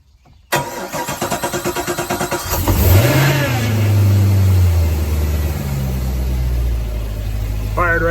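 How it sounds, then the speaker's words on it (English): A Volvo Penta Gen 5 boat engine cranks rapidly with a rhythmic starter whir, catches and revs up loudly, then settles into a steady nearby idle with a rising whine at the end. "Fired right up."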